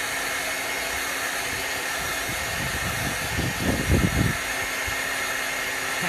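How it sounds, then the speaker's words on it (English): A hair dryer blows steadily to dry chalk paint on a chalkboard sign board, a constant close airy roar that swells and roughens briefly midway as the dryer is moved. "now let's make sure this layer is all dry"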